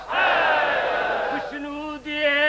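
A large mosque congregation at a majlis roars a loud unison chant in answer to a religious slogan, a dense swell of many voices holding the shout and then breaking into a few drawn-out calls near the end.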